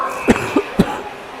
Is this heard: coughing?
yes